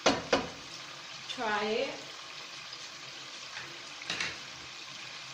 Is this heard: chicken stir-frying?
yes